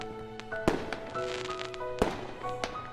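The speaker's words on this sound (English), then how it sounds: "The loud sound of a firework going off makes us both of us jump." Fireworks burst in the video game Doki Doki Blue Skies, with two loud sharp explosions followed by crackling and soft game music underneath.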